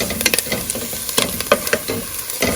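Onions sweating in melted butter in a pot, giving a steady crackling sizzle with frequent sharp stirring scrapes and clinks close by, no voices.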